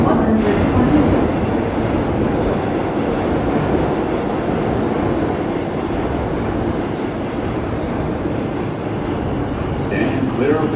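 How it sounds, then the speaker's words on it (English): An R142 Bronx-bound 5 express subway train rolls loudly through a tunnel with steady rumbling, wheel noise and occasional squeals, continuous throughout. "This is a Bronxbound 5 Express train."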